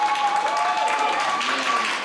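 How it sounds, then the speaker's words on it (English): Audience applause at a 2023 anime convention game show, a steady wash of clapping with a faint tonal hum and some voices mixed in. "Give a round of applause though, guys."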